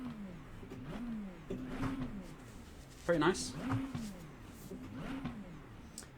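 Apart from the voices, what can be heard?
McLaren 720S GT3 EVO engine revving, iRacing video game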